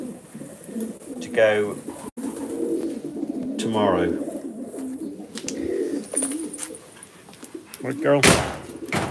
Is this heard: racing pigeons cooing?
yes